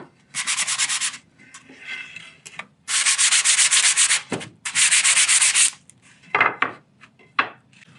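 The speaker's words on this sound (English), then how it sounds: "You can clean up the edges of those holes with a little sandpaper. Careful not to erase your lines while sanding." Sandpaper rubbed by hand over the edges of drilled holes in a wooden guitar neck, several close, loud scratchy strokes of about a second each, separated by short pauses and lighter rubs.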